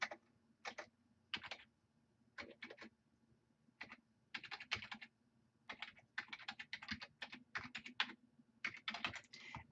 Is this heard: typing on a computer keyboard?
yes